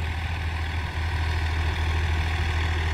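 A 2018 Massey Ferguson 245 DI tractor on 14-inch tyres, hitched to a harrow, holds a steady low diesel rumble and drone, close and constant with no change in pitch.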